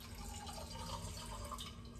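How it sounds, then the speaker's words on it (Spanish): Ice and water poured into a glass, a continuous trickle with light clinks and drips over a steady room hum. "le estoy poniendo hielito, le pongo su agua"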